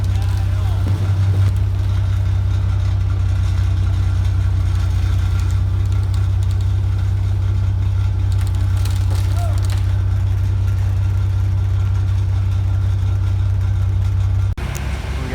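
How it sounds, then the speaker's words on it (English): A skid steer and a tractor run together while pulling a fabric roof over a barn frame, giving a loud, steady low engine drone throughout, with a brief knock near the end. "a skid steer and a tractor pulling it"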